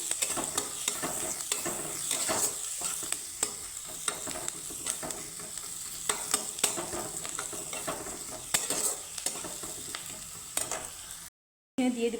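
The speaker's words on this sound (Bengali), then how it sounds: "গার্লিকটাকে আমি একটু হালকা ভেজে নিচ্ছি" Chopped garlic and onion lightly frying in a pan, a steady sizzle running throughout with frequent sharp clicks and scrapes of a utensil stirring, with a brief dropout near the end.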